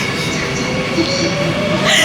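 A metro train rides along with a steady, loud rumble and rolling wheel noise, heard from inside the carriage with no clear pauses.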